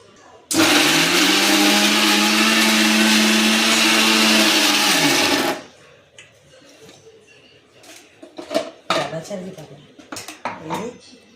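An electric grinder whirs loudly and steadily for about five seconds while blending onion and capsicum, then stops abruptly, followed by clinks of the jar and utensils.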